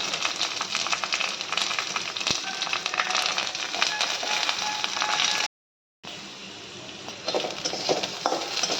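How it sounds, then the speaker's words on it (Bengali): Carrots, beans and chana dal fry in a pan, giving a steady close crackling sizzle that cuts out briefly partway through before resuming. "গাজর বিনস দিয়ে দিলাম, আর ছোলার ডালটাও এদের সঙ্গে"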